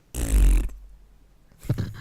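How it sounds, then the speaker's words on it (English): A loud, close fart sound on a livestreamed comedy talk show, a low rumbling burst lasting about half a second, then a softer rough noise follows after a pause. "They know my fart sounds."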